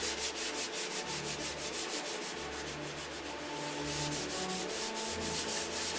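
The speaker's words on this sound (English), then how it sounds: "But we're going to be sanding from here on out." Close, continuous hand sanding with 600-grit paper on painted model aircraft work: quick regular strokes make a soft scratchy swish, pausing briefly midway, then resuming at the same brisk pace.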